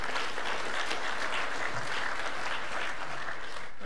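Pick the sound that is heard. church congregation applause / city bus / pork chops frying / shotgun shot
church congregation applause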